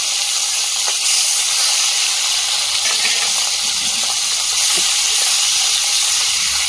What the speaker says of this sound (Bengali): তেলটা গরম হয়ে গেছে, মাছগুলো ভেজে নেবে